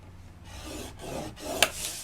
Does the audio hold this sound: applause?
no